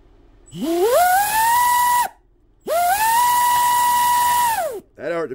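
A TP Power 2030 5310kv small brushless boat motor spinning up at high RPM on a 3S battery, two loud rising whines that hold a steady piercing pitch then cut off, followed by a brief voice.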